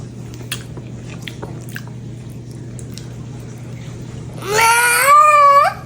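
People bite into and chew yogurt Biscoff cheesecake with soft, faint, squishy mouth sounds, and a loud rising vocal exclamation breaks in near the end.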